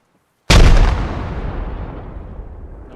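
A fragmentation grenade detonating on a military training range, one sudden loud blast from silence with a deep boom that rolls off into a long fading rumble and echo.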